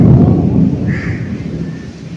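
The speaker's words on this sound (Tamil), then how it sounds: "இடி வருது" A deep, heavy rumble of thunder rolls loud and close during a rainstorm in hilly, tree-covered country, then slowly fades out.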